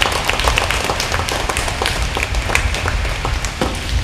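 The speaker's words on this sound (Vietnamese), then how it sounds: "Cộng đoàn chúng ta cho một tràng vỗ tay để mà hân hoan chào đón chúc mừng" Congregation applauding to welcome new deacons at a Catholic feast-day Mass, dense and fairly loud clapping from many hands that carries on steadily throughout.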